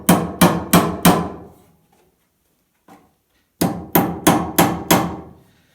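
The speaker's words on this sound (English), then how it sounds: "The length of the hammer makes it easier to bang them in than if I were to try to just hit them with a rock" A hammer driving nails in a basement, four quick loud strikes, a pause with a faint tap, then five more sharp close blows in a steady rhythm.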